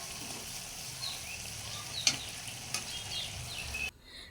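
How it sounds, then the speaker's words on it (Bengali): Spices and fish curry base frying in a pan, a steady sizzle with a few sharp stirring scrapes and taps, ending abruptly. "দেখুন এখনও আরও কিছুটা সময় ধরে ভাজবো, ভাজার পরে পরিমাণ মতন জল দেবো"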